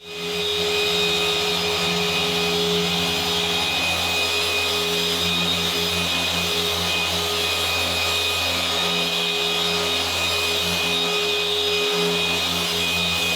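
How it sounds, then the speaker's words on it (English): Polishing machine running slowly and steadily over the paint of a BMW 1 Series during paint correction: a loud, continuous motor whine and hum, close and unbroken, with no talking. "Run the machine over the paint incredibly controlled, slow and steady."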